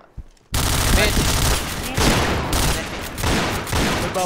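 AWP sniper rifle fire in Counter-Strike, a loud close burst of gunfire after a brief quiet start, with repeated sharp shots and game sounds over several seconds.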